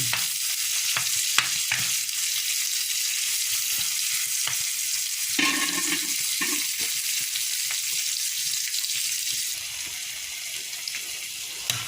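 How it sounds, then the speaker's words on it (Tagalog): Tomatoes are pressed and stirred in a sizzling pan while sautéing bitter gourd (ampalaya), with steady frying hiss and a few sharp utensil scrapes and clicks throughout. "dinudurog ko guys ang kamatis"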